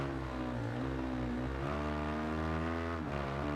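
Motorcycle engine in the video game Ride 2 during a wheelie, a loud sustained high-revving drone whose pitch dips and climbs again, with no talk.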